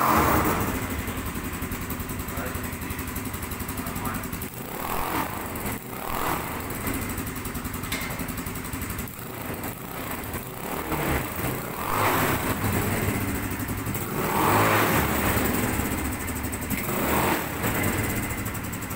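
A hand-assembled Motoland RS8 turbo quad bike's engine runs loud and close, a steady rough drone with several swells of revving and no voices.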